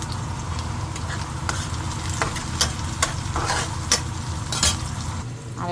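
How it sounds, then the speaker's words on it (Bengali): Onions and green chilies fry in a pan under a constant close sizzle, broken by sharp spatula scrapes and clicks against the metal at uneven intervals. "পেঁয়াজ আর কাঁচামরিচটা ভাজতেছি"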